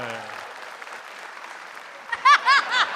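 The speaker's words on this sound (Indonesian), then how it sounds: "tepuk tangan buat Teh Nirina" An audience at an Indonesian stand-up comedy show bursts into a short round of applause after a stretch of quieter crowd murmur and talk.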